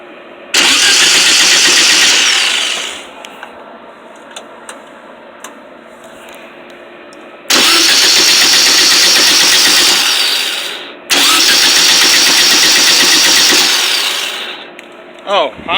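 A VW 1500cc engine fitted with an exhaust is cranked by the starter in three long bursts, loud and close, each a dense churning roar that tapers off into quiet gaps with faint clicks.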